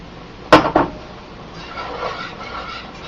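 Sausage goes back into boiling gravy in a pot with two sharp clinks of a utensil against the pot, followed by a soft, low bubbling and stirring sound.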